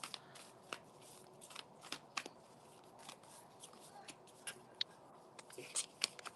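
A deck of tarot cards that keep sticking together, shuffled by hand as faint, close papery flicks and taps that come at uneven intervals, with no talk.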